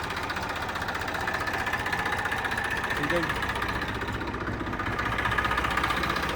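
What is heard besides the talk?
tractor diesel engine running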